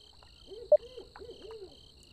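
An owl gives a series of soft, rounded hoots against a quiet night insect drone in the Real VR Fishing game, moderately distant with a brief sharp click partway through.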